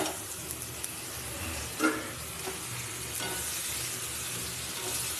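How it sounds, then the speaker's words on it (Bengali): Marinated meat frying in a pan of cooked-down spice masala with the oil separating, a steady sizzle with stirring scrapes and one brief louder clatter, continuous and close. "এবার আমি ম্যারিনেট করা মাংসগুলো আমি দিয়ে দেবো"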